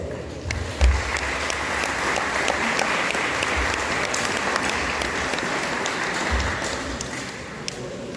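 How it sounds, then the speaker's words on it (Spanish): An audience at a council of elders gathering in Caxhuacan, Puebla, applauds to welcome a speaker, steady, even clapping from a mid-sized crowd that carries on for several seconds, with a few dull thumps underneath. "Recibámosla con un fuerte aplauso"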